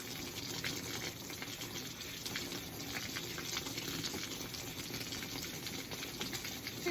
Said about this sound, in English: all the bad water and the water that's processing through the rocks and taking all the gross and grimy stuff off, it's just gonna fall right through